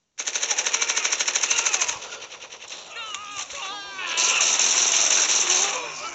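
Rapid automatic gunfire from the mobile shooter game Blitz Brigade, a dense rattling burst in the first two seconds, then shifting weapon and effect sounds with a brief voice under the action.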